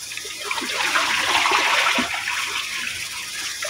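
Rice being washed in water by hand for Saudi hamam kabsa, a steady close sloshing and splashing with trickling water throughout, no talk.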